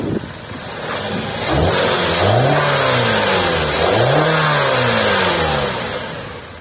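A 2013 Hyundai Sonata with a 2.4L engine fires up, then revs in two rising-and-falling sweeps before easing back, loud and close over a constant hiss.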